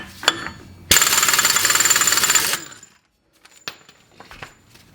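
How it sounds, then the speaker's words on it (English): An impact wrench hammers off a CV axle bolt on a Silverado 2500 Duramax in one loud, close rattling burst of about two seconds, followed by faint metallic clinks and handling noises. "Now we can go ahead and get the CV axle bolt off. We're gonna hit it with the impact to get it off."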